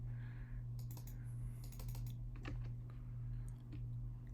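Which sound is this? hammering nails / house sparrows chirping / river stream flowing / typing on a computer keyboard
typing on a computer keyboard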